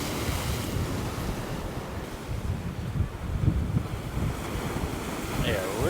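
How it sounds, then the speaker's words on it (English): Gulf of Mexico surf pounds a Madeira Beach shoreline during Hurricane Helene, a steady loud roar of breaking waves with gusting wind buffeting the microphone throughout. "But look at those waves."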